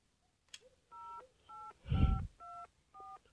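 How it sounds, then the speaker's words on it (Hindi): Telephone dialing in the Mr. Meat video game: four short paired-tone DTMF beeps at an even rhythm, with a louder low thump between the second and third tones and a brief click before them. "मैंने किसी को तो कॉल मिलाया है इसमें टू टू टू टू"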